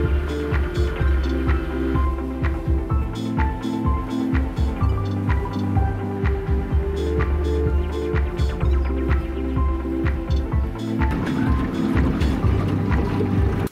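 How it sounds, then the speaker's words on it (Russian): Outboard motorboat running on open water on the way to a zander fishing spot, a steady loud engine drone with rhythmic hull slaps against waves and wind noise throughout. "сейчас сажусь на мотор, полчасика, минут 40, и будем в Кремне."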